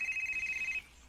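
A telephone rings once in a short, faint electronic trill that stops abruptly, signalling a call from Mama Rebecca.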